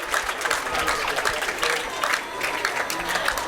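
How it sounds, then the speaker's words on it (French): Pupils at a school applaud loudly, a bursty, uneven crowd clapping with some cheering mixed in, close and energetic throughout. "On applaudit encore très très fort pour Emmanuel Ngoloming."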